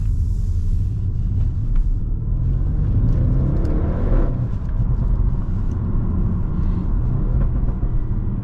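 An Audi RS7 engine drones steadily on a night drive, a loud, continuous low rumble with a mild swell partway through, heard from inside the car with no talking.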